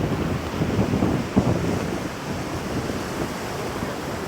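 Water from Bronte Lagoon in Tasmania's lake country runs off into Bronte Lake with a steady, loud rushing roar, mixed with wind buffeting the microphone.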